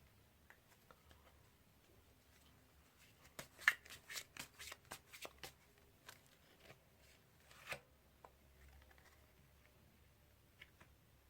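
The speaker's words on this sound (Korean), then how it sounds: "4번 또 추가적인 카드를 먼저 뽑아보도록 하겠습니다." Tarot cards are shuffled by hand during a reading: a quiet riffling burst of rapid flicks, then scattered taps and a few further flutters against near silence.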